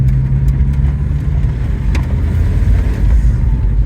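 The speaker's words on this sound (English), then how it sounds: "That turbo sound, man." A 1982 Saab 900 Turbo engine runs in a low, steady rumble, revving slightly and holding a continuous drone throughout with no talking.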